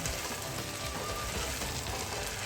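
Chickpeas being fried in an onion-paste masala in a kadai give a steady, dense sizzle with fine crackling throughout, close and continuous with no talking.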